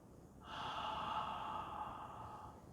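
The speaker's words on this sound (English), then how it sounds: "Slowly you breathe out, exactly like that. Breathe out through your mouth." A slow, soft breath is pushed out through the mouth during a harmonica lesson, one steady airy exhale lasting about two seconds, close and quiet with no talking.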